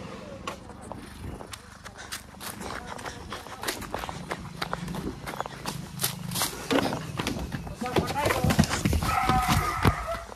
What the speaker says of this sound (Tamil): மாடு வெளியோட்டம் ஓடிச்சு